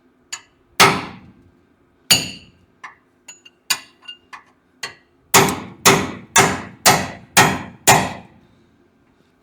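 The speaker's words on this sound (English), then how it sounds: "I'm going to take a hammer and a chisel and go to whooping and see what happens" A series of sharp metallic hammer strikes on a chisel against a 1981 Ford F100, irregular at first, then settling into a steady run of loud, ringing blows.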